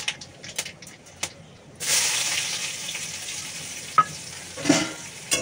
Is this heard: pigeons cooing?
no